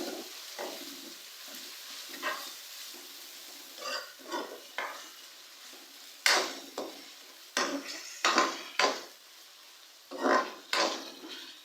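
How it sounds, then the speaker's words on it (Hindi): A spoon stirring tomatoes into chicken masala in a pan, a dozen scraping, clattering strokes coming in irregular bursts, some louder and sharper than others, over a faint sizzle, with no talk. "टमाटरों को हम लोग अच्छी तरह से मिक्स करेंगे।"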